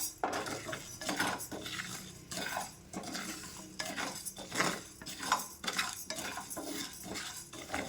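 Barley is stirred in a pan as it fries, giving repeated metallic scrapes and clinks of a spoon against the pan over a faint sizzle. The strokes come up close in uneven bursts, with no voices.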